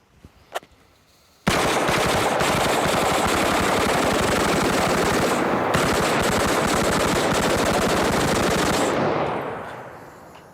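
A rifle fires a sustained, rapid automatic burst at bins after a brief lone shot, the dense roar of gunfire running loud and close for about seven seconds before trailing off.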